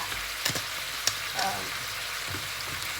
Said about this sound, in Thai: เดี๋ยวเราผัดเนื้อสุกแป๊บนึงค่ะ